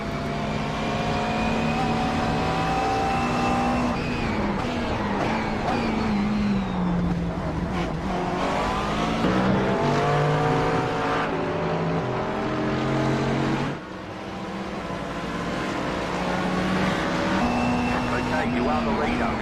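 A McLaren race car at Oulton Park, heard from the cockpit as the engine revs climb and drop through gear changes and corners, loud and continuous, with the driver talking over it.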